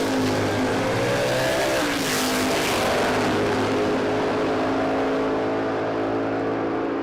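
A Mustang drag car makes a run at Willowbank Raceway in Australia, its engine roaring loud and steady with rising revs, a continuous full-throttle blast heard close without talk.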